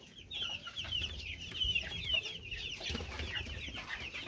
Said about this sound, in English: those are the baby chicks.